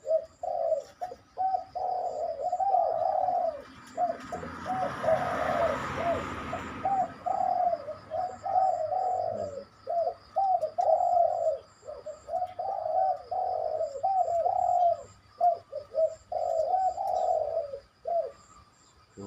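A spotted dove held in a trap cage coos steadily outdoors, giving repeated rhythmic phrases of soft, low calls with short pauses between them, close and clear throughout.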